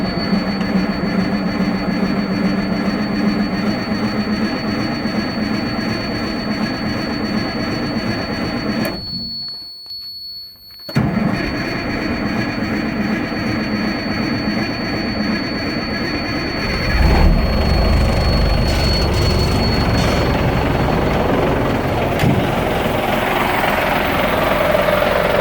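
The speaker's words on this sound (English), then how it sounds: "We'll start her up." A cold M923A1 military truck diesel engine cranks and fires, then runs with a steady loud rumble and whine, a brief near-silent gap partway through, and a deeper, louder idle in the final seconds.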